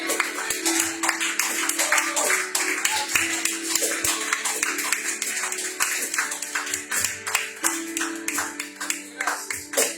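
A church congregation at a Sunday service claps along in a steady rhythm, with dense, bright, even hand claps continuing throughout while music holds underneath.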